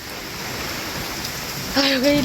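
Steady rain falls outdoors beside farm fields as the monsoon begins, a constant soft hiss throughout, with a voice briefly calling out near the end.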